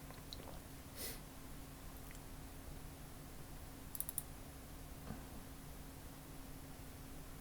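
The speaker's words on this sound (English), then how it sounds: "now I'm going to double click on this to make sure that it runs" A computer mouse clicks faintly in a quiet room, with a lone click followed later by a quick double-click over a low background hum.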